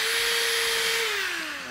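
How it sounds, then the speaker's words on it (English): An electric drill fitted with a rotating wood-shaping tool gives off a loud, steady whine with airy rushing noise, its pitch sagging slightly as it slows toward the end. "or you can reverse the drill, right?"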